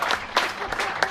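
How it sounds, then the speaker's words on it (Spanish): An audience at a Latino church camp gathering bursts into brief applause, a short, close patter of many hands clapping with uneven accents. "Desen un aplauso ustedes mismos."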